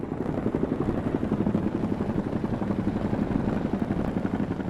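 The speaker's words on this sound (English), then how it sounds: "a helicopter could now airlift them to safety" A helicopter's rotor thumps in a fast, steady rhythm, a loud, close, low chopping drone that continues unbroken with no voices.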